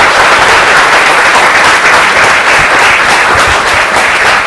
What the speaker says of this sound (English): please give a big round of applause to our speaker